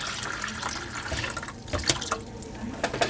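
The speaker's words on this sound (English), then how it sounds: "So I'm going to pour this hot water into here." Hot boiled rainwater poured into a bowl for dyeing spruce roots, a steady splashing, trickling stream heard close up and alone for a few seconds.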